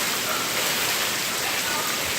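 Heavy storm rain pours down steadily as a dense, even hiss, close and constant with no breaks, under flooding conditions.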